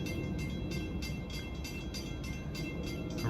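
Long Island Rail Road diesel express train rolling past Bethpage station on a weekday evening rush run to Ronkonkoma, a loud, steady, close rumble of wheels and engine with faint rhythmic clicks throughout.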